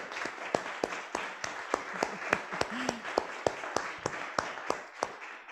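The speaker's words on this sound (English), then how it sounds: "you are getting in-house applause" An audience at a poetry reading claps steadily indoors, a dense patter of many hands with sharper individual claps standing out, moderately loud and continuous throughout.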